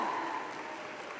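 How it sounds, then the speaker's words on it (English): A graduating class applauds at a university convocation ceremony, producing a steady, diffuse wash of clapping from a large indoor crowd that stays fairly even and then eases slightly. "I invite you, the members of the graduating class, to reciprocate by applauding your family and friends, faculty and staff"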